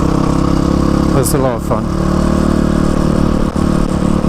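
A GPX FSE 300 R dual sport motorcycle ridden on twisty mountain roads, its engine droning loud and steady with wind rush while a rider talks briefly over it.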